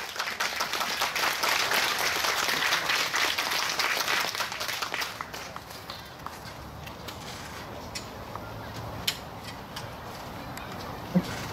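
An audience claps to welcome a small classical chamber orchestra at an outdoor book launch in a park. The dense applause fills the first half, then thins to scattered claps and fades away.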